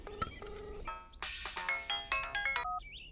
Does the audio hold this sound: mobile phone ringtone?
yes